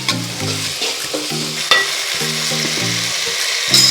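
Ginger and garlic go into a pan of sautéed onion and tomato for a chicken kulambu, frying with a steady close sizzle while a spoon scrapes and stirs in regular strokes.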